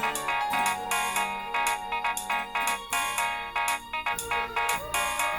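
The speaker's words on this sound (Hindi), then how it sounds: "तुम्हारे फोन से मुझे कॉल क्यों आ रही है?" A melodic phone ringtone plays continuously and loudly, its repeating chime pattern cycling several times with no voices over it.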